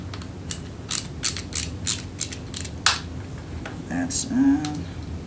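Small screws being driven back into the plastic housing of an NES RF adapter with a screwdriver, giving a run of close, sharp ticking and creaking clicks in uneven bursts, with a few faint voice-like sounds near the end.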